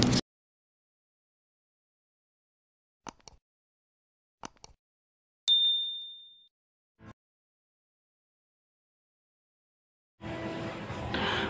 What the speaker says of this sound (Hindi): साथ में दी हुई नोटिफिकेशन बेल को भी टैप कर दीजिए